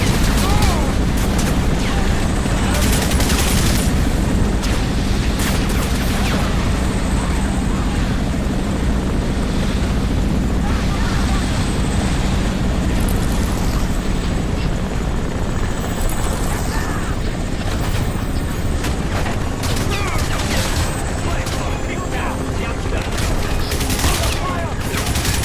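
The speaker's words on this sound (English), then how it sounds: "I'm getting shot up from all angles." Sustained gunfire from a PC video game, with rapid fusillades crackling over a constant helicopter-like rotor drone and bursts of shots clustered at intervals throughout.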